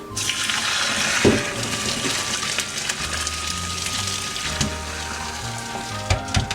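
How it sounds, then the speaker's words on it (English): Boiled potatoes and their cooking water are poured through a kitchen strainer, giving a steady rushing, splashing flow that runs unbroken for several seconds, with a few clanks near the start and end. "I'm gonna pour them through the strainer."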